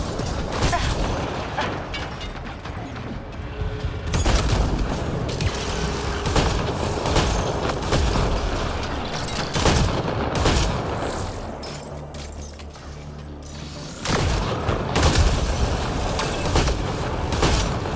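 Gunfire crackles in a Mass Effect: Andromeda combat scene, dense bursts of shots and booms coming in repeated waves and filling nearly the whole stretch, with brief lulls between volleys.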